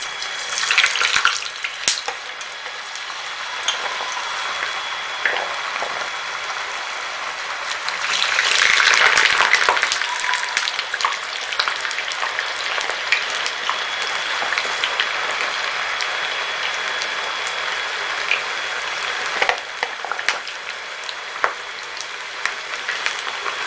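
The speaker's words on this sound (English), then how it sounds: "The oil is ready. I'll add the potatoes slowly so as not to get burnt." Potatoes fry in hot oil for a beef and rice dish, a dense, steady sizzle that swells louder for a moment as more potatoes go in, then settles into a continuous crackle with occasional pops.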